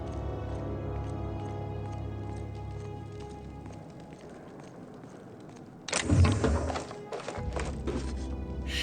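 A sudden loud electric blast from a shock cannon in The Outer Worlds bursts out over a steady mechanical background hum, then crackles and fades in a couple of short bursts.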